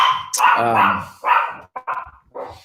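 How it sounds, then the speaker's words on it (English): A small dog yaps in short, sharp bursts from another room, several barks and yips in quick succession, fairly loud and close to dominating the sound. "My inner critic is criticizing my yapping dog right now, which I imagine you can hear pretty well."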